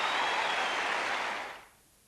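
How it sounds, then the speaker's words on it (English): Crowd at the Wimbledon Championship applauds a tennis player with a dense, loud wash of clapping that holds steady, then fades away over the final half second. "He deserves every bit of the applause that he's receiving."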